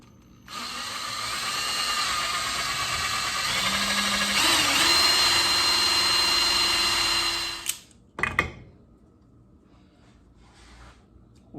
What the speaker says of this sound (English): On your mark, get set, drill a hole.